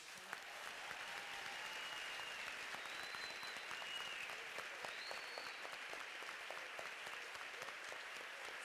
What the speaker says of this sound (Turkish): Bu arada bu arada Adile Naşite ve Kemal Sunal'a da bir büyük alkış.